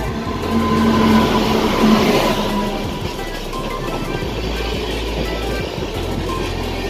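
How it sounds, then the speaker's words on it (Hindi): A train rumbles and clatters steadily nearby as it approaches a railway station on the Bhabua Road to Maihar route, a continuous loud rolling noise with faint tones early on. "जो हमारा ट्रेन है वो बस स्टेशन पहुंचने ही वाला है"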